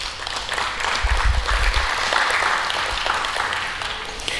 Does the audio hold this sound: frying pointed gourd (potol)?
no